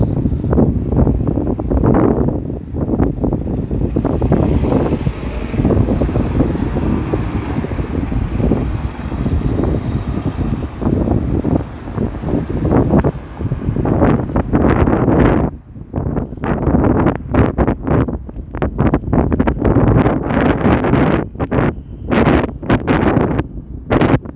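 Strong, steady wind buffets the microphone on a cold downtown Toronto street, a continuous loud roar with gusty bursts and rustling that grow choppier toward the end; no talking is heard.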